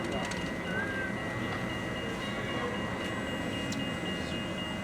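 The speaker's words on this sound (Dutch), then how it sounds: "We're in the tram on the way to sushi." Interior of a moving tram: a steady, even rumble of wheels and motor fills the whole stretch, with faint squeaks and clinks and a few soft voices underneath.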